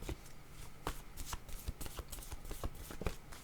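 Tarot cards shuffled by hand for a card reading: quiet, close riffling bursts repeating in an uneven rhythm for a few seconds, with no speech.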